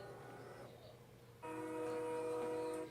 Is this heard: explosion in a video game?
no